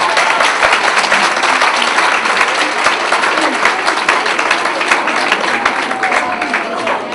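Audience applause at a children's Iqbal poetry and speech competition prize-giving in Islamabad, loud sustained clapping from many hands filling the hall continuously, with some voices underneath.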